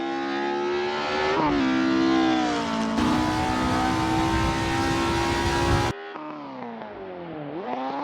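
A Ford Escort rally car driving hard on a track, its engine droning loud and steady with rising and falling pitch through gear changes, lifting off and accelerating again.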